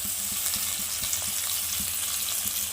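Chopped tomato and onion frying in oil in a pan for palak paneer, giving a steady, close sizzle with soft stirring knocks underneath and no talking.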